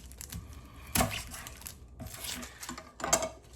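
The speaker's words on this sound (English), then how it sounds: "We'll chop it up and we'll stage it right here on the cutting board." An onion is chopped on a cutting board in a home kitchen, with several sharp knife knocks and clatters against the board and faint rustling between them, close and moderately loud.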